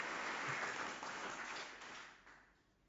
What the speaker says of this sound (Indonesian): Sebelumnya kita beri tepuk tangan dulu dong.